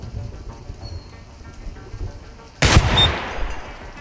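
A single loud gunshot from a handgun in the video game Receiver 2 cracks out sharply, then trails off into a lingering echo with no other sounds following.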